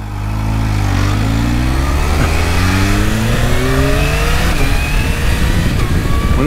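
A Kawasaki H2 motorcycle engine accelerating hard, its pitch climbing steadily through the gears with quick quickshifter changes, loud and continuous throughout.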